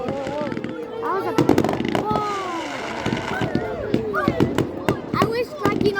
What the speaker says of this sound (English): Now we have these little things, and it shoots out like, miniature fireworks